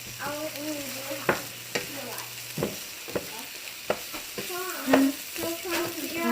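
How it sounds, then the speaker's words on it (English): A vegan sausage fries in a pan with a soft background sizzle, punctuated by repeated sharp scrapes and taps of a utensil stirring it, some faint tonal kitchen sounds mixed in. "I'm about to put this sausage"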